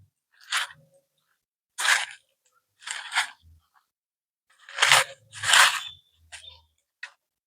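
Raw green mango pieces tossed and mixed with sugar by hand for a sweet-sour pickle, giving several short, close crunchy squelching bursts with pauses between them.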